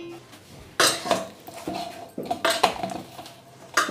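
A lid lifted off a container of kneaded dough for mughlai paratha, then utensils clinking against metal in a few sharp, close knocks and scrapes.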